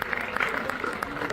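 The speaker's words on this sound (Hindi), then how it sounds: "तालियां कर दें आपकी" Audience applause at a Hindi comedy poetry gathering, a short burst of clapping from a seated crowd with a voice speaking over it.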